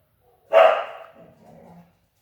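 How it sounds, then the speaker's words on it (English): A dog gives a single loud bark indoors, followed by a softer trailing whine or grumble, with no talking. "ignore my dog"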